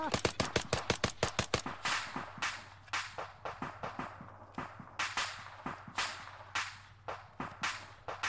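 Rapid bursts of gunshots in the military shooter ARMA 3, fast sharp cracks at first, then a slower steady string of shots over a low hum.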